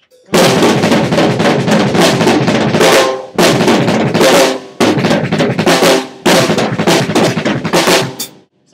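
Fast, rapid drum hits roll in dense bursts, broken by short pauses into four loud, driving phrases played up close.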